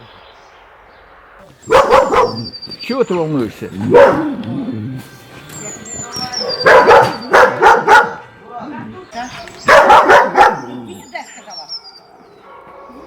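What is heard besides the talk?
dog barking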